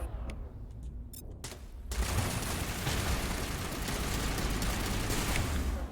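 Dense gunfire in the Mass Effect video game, a continuous barrage of blasts that starts after a few sharp clicks and quieter moments, then stays loud and unbroken to the end.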